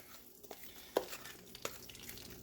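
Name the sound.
cornbread batter poured into hot grease in a cast iron skillet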